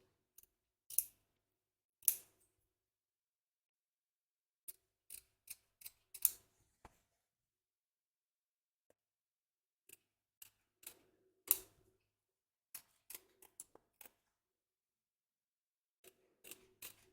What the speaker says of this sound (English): Trim away the excess felt from both back and front of your hoop